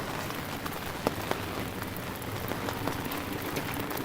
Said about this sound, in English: It is supposed to rain today, and it is raining